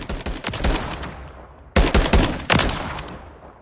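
SCAR rifle in the game Call of Duty: Modern Warfare III firing in single-shot mode, a rapid string of loud, sharp cracks followed by two heavier reports, each with a trailing echo, alone without talk.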